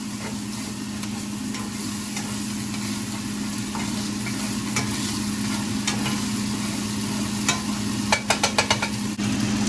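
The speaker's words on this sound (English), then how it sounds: "got the onions in with the sausage" Breakfast sausage and purple onion frying in a pan while being stirred, a steady sizzle with scraping stir sounds and a few sharper clinks near the end, no talk.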